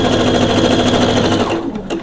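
A sewing machine stitches the crotch lining of lace lingerie underwear, running in a steady, loud, continuous whir that eases off near the end.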